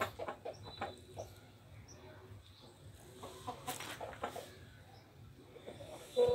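Aseel chickens, a rooster among them, on a farm give soft, faint clucks and scattered low calls against quiet outdoor background noise, with someone speaking intermittently nearby.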